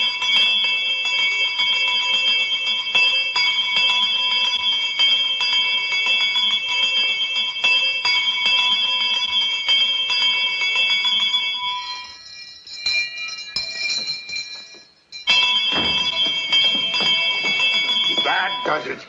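A bell rings rapidly and continuously, loud and steady, breaks off briefly with a gap of clatter and voices, then resumes ringing.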